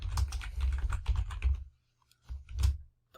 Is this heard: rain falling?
no